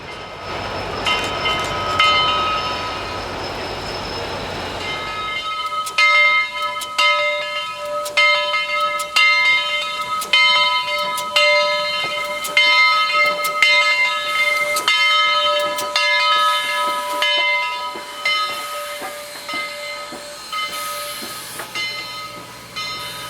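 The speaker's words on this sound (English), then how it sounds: "4501 made the last two moves around the Y and then slowly pulled into the platform." Southern Railway steam locomotive 4501 eases into a station platform: a loud hiss of steam at first, then a steady, evenly spaced clang of the engine bell ringing over and over as the train rolls in close by.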